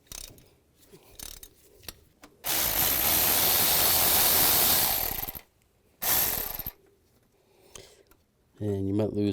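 A 10mm socket ratchet works on thermostat bolts of a 2005-15 Nissan Xterra, giving close bursts of rapid clicking between quiet gaps, with a brief voice near the end.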